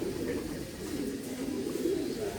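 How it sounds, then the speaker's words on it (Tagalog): Low, continuous cooing from several breeder pigeons, steady and moderately loud, blending into a dense murmur with no gaps. "Daming kalapati dito mga kalapatids, mga breeder na hen."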